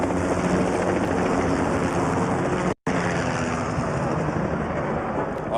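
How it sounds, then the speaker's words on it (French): Two Bell 505 helicopters pass overhead in formation during an Independence Day air parade, a loud, steady roar of rotors and turbines that fills the whole stretch, cut by one brief dropout. "Donc on a la formation Malo avec 2 hélicoptères Bell 505"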